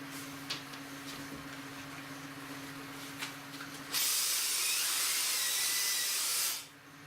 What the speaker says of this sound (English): I can hit them with the vacuum